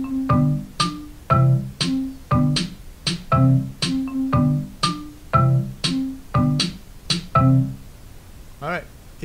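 A voice imitates a boom-tap drum rhythm, alternating low voiced booms and sharper taps in a regular, evenly spaced pattern of about a dozen strokes, close and clear.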